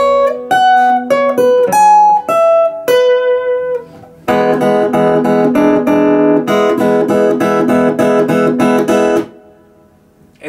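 Guitar plays the string-section part of a song: a few quick single notes, then steady bright strummed chords pulsing evenly before stopping abruptly near the end, alone with no talk.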